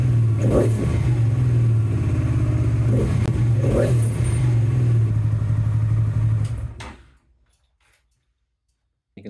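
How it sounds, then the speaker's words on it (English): A Honda XL700V Transalp V-twin motorcycle engine runs at a steady, loud idle close by, with a few brief throttle blips rising over the rumble, then it shuts off and falls to near silence. "Now we need to start the bike, let it idle for 2 to 3 minutes, blip the throttle a few times"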